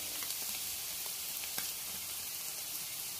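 Spice powders sizzling in hot oil as masala is sautéed for Kerala-style prawn roast, a steady, soft crackling hiss with faint scattered pops and occasional stirring scrapes.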